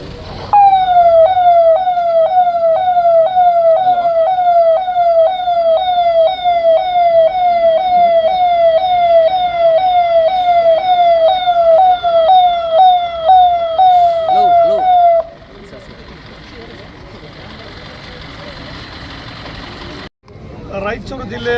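Ambulance sirens wail loud and close in a fast, repeating rising-and-falling pattern for about fifteen seconds, then cut off, leaving a lower traffic rumble; three ambulances supplied to Raichur district by the labour department.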